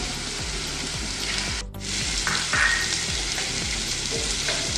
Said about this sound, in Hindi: लहसुन हमारा हल्का ब्राउन हो गया है, इसमें अब हमने तेज जीरा डाल देना है।